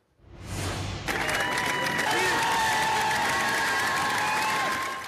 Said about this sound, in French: Des policiers applaudis par les Français